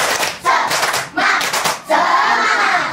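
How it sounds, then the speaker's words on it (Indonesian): Classroom of pupils clapping the tepuk semangat cheer in rhythmic bursts, three loud volleys of hand claps separated by brief pauses, close and filling the room. "kita tepuk semangat"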